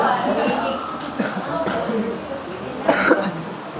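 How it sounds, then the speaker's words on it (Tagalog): A person coughs in a few rough bursts spread through the clip, close up, with some other noise in the background. "Taray ko, ubo ka ng ubo."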